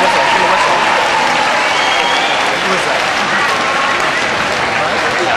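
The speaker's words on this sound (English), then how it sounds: "let us give a huge round of applause to Dina Rudick" A large morning audience of about 3,000 people gives a speaker a huge round of applause, loud continuous clapping with crowd noise throughout, no talking over it.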